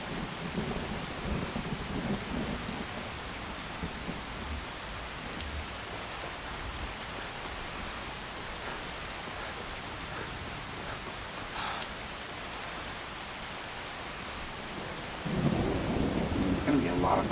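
Steady rain and a thunderstorm in the Skyrim video game, a constant hiss of falling rain with low thunder rumbles, louder near the end.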